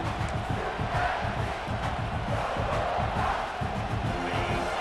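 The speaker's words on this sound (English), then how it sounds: "This crowd, full throat, splitting the eardrums" A stadium crowd roars continuously in EA Sports College Football 26, a dense, full-throated wall of cheering that stays loud throughout.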